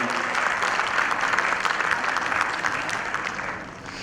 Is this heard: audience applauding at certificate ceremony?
yes